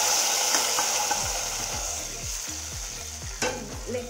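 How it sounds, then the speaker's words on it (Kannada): Tempering poured into a pot of spicy pongal sizzles and fries steadily, with a stirring spoon scraping in rhythmic strokes and a sharp metallic clink near the end, close and alone without talk. "ಒಗ್ಗರಣೆ ಏನು ತೊಗೊಂಡಿದ್ದೀವಿ ಅದನ್ನು ನಾನು ಹಾಕ್ತಾ ಇದ್ದೀನಿ"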